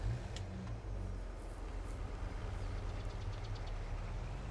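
In Farming Simulator 22, a truck engine idles with a low, steady rumble and a faint knocking pulse, heard close throughout with soft ticking on top.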